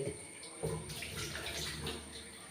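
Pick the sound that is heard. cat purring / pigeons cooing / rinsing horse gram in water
rinsing horse gram in water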